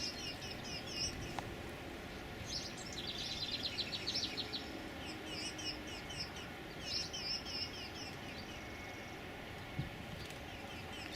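House sparrows chirp in a backyard, giving repeated short, bright tweets in loose bursts at a moderate distance over a steady outdoor hiss.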